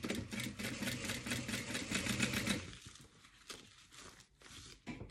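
A sewing machine top-stitches through a bubble mailer envelope at a 4.5 stitch length, running steadily and loudly for a few seconds, then giving way to quieter crinkling and rustling of the padded plastic.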